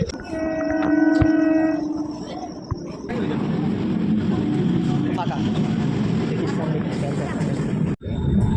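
A train horn sounds, then a loud, steady rumble of a train arriving at Ranaghat station nearby, continuing for several seconds before a brief drop.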